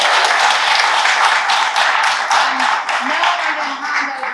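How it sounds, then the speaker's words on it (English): An audience claps for the award judges at a children's book illustration award ceremony, a dense round of applause heard close with a speaker's voice over it. "So please give them a round of applause."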